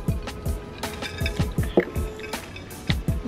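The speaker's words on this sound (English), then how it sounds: "Let me take a little sip of water." Someone takes a few small sips of water between bites of vegan ice cream bars, giving soft wet slurps and swallows up close in a quiet room.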